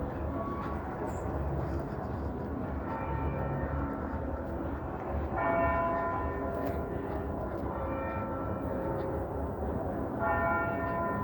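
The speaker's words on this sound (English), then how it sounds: "bells at Old City Hall ringing, or a bell," The bell at Old City Hall in Toronto rings out over steady urban traffic rumble, its tolls recurring at intervals, each with a lingering tone mixed into the constant city noise.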